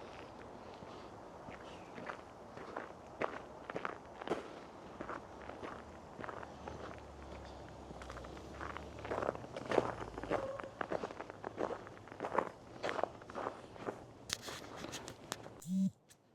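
Footsteps walking back over icy, crunchy snow, a long run of steady crunching steps close by, no voices.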